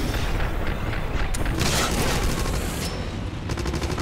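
Rapid gunfire from a weapon in the 2009 Wolfenstein shooter game, with dense bursts of shots running continuously and a few sharper cracks standing out, loud and unbroken throughout.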